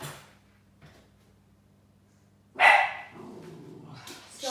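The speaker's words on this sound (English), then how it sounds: "Sorry, that's my dog." A dog barks in a sudden loud burst midway through a quiet kitchen during Anglo-Saxon cooking, followed by softer rustling and movement noises.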